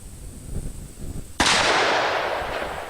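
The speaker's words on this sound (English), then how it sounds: "We're going to shoot a couple of times with full charge 44 Magnum ammunition." A single loud gunshot from a Ruger Super Blackhawk revolver firing full-charge .44 Magnum ammunition cracks sharply after a stretch of low outdoor rumble, then its blast rings out and slowly decays.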